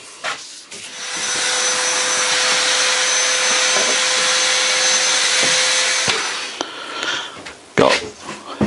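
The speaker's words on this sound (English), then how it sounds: "we'll just give it a hoover up." Vacuum cleaner hoovering up debris during a narrowboat refit, a loud steady whine that runs for about five seconds, then stops, followed by a few knocks and clatters.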